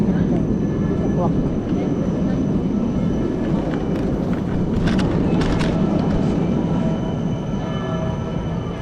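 A train rumbles steadily close by with low, continuous rail noise and a few metallic squeals, while people talk faintly over it.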